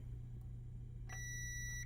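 A steady electronic beep from a multimeter continuity test on a GTX Titan X Pascal graphics card starts partway through and holds for under a second over a low background hum, with no talking.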